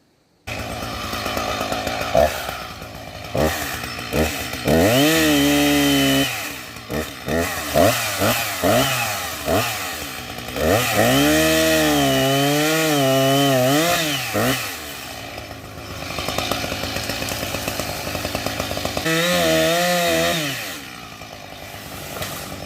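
Chainsaw cutting branches off a tree stand, running loud and close in long bursts of revving with brief idles between, nearly continuous over the whole stretch.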